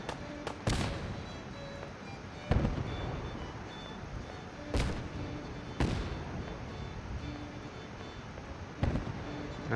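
Gauss rifles fire in Fallout 4, five sharp, loud blasts spaced irregularly, each with a sudden crack and a decaying rumble over quiet game ambience.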